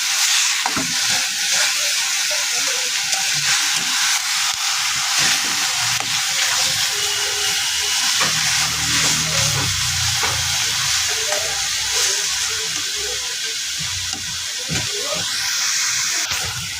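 Ground onion paste fries in a pan for a yogurt catla fish curry, a dense close sizzle and hiss with repeated spatula scrapes and stirring knocks throughout, steady and loud with no talking.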